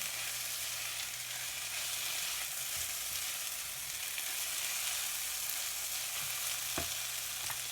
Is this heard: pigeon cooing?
no